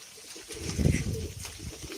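A pigeon at a bird auction coos softly nearby, a low throaty call rising and fading over a quiet background.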